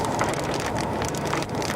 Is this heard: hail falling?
yes